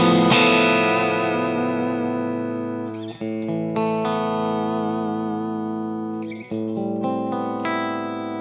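Electric guitar played through a Matchless AC30 amp with Celestion speakers, bright overdriven chords ringing out with long sustain, a few fresh strums and pick attacks, close and clear with no talk.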